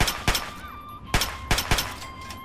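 Rifle gunfire in the video game Fallout 3: a few sharp, separate synthetic shots with brief gaps between them, fairly faint and with no talking over them.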